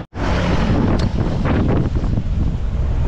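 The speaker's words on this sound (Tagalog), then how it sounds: "Grabe lakas ng hangin, bagyo na ata kami rito." Strong wind buffets the microphone during a long bicycle ride, a loud, roaring rumble that gusts unevenly for a few seconds after a brief silent gap at the start.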